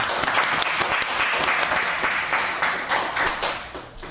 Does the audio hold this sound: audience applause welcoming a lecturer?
yes